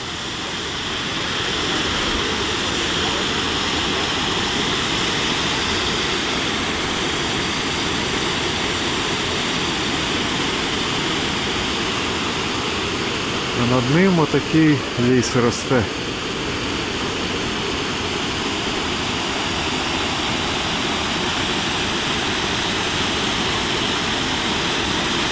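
Steady roar of a waterfall in Johnston Canyon fills the whole span as broadband rushing water, with a brief burst of a man's speech partway through.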